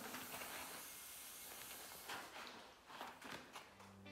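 Air escapes from the valve of a freshly set up tubeless mountain bike tyre as a faint, steady hiss, with a few soft rustles and handling noises over it.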